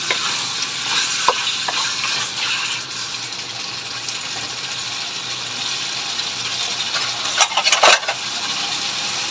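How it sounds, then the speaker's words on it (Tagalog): Lechon paksiw stirred in a pan with a utensil, steady sizzling simmer under scraping and clicking strokes against the metal, loud and close, a few sharper knocks near the end, no voices. "At muli natin hahaluin bago natin titikman at hahanguin."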